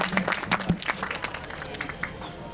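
An audience claps for a performance by schoolgirls of Bhavnagar school number 70 at a community event, a steady patter of many hands with faint crowd murmur.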